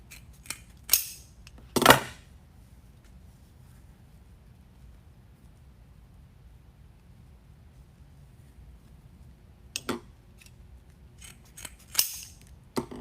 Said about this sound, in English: Your ribbon slides down between the blades about halfway through the cut.